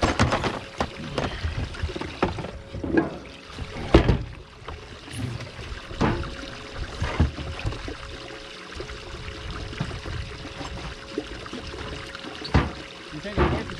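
Water splashes and pours in uneven bursts, with scraping and sloshing as it is bailed out of a boat, under intermittent nearby voices.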